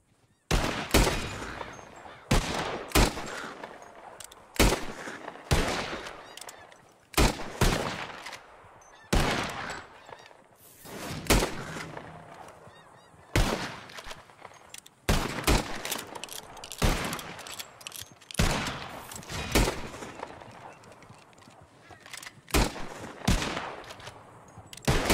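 Repeated gunshots fired at flying birds in Red Dead Redemption 2, sharp loud cracks spaced irregularly across a long stretch, sometimes in quick pairs or clusters, with quiet gaps between.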